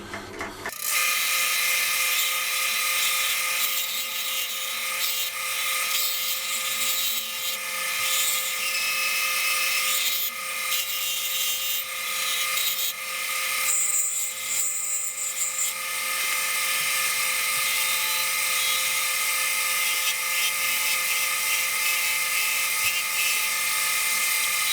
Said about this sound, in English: we'll just put a bit of decoration on it using a point tool